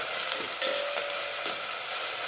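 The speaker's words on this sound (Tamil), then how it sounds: "பாருங்கள் எப்படி வதங்கி வருதுன்னு" Ingredients sautéing in a pan for a Kongu-style rice and lentil dish, a steady close sizzle with a few light stirring clicks.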